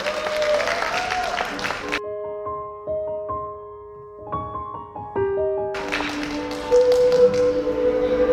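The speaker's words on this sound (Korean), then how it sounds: "큰 박수 많이 부탁드립니다" An audience at a spring poetry recital claps in bursts, with a quieter musical interlude between them and a voice talking over part of the applause.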